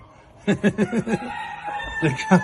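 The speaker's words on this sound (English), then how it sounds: "You got a rooster" A rooster crows nearby in a Halloween setting, a short series of loud rhythmic calls followed by a trailing tone, with a person talking over parts of it.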